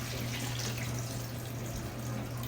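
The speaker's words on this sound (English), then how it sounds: "what I have right here in this is the water that was left over from boiling the butternut squash." Leftover water from boiling butternut squash is poured into a pot of vegetables for soup, a steady, continuous splashing flow that stays fairly constant throughout, with no talking.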